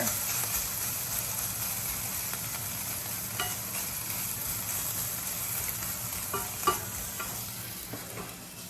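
Pork belly sizzles and fries in a pan for fried rice, a steady hiss of hot fat with occasional scraping stirs and small pops, close and continuous with no talking.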